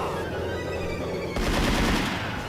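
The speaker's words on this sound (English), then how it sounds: "desperately trying to jump out of the way of the machine gun" Machine gun fire in the 1998 Sega Model 2 arcade game Dynamite Cop, a dense loud rattling burst kicking in partway through over steady game music and effects.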